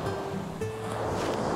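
Sea waves wash onto a beach in Zambales, a broad rushing surf with wind buffeting the microphone, fairly loud and close throughout.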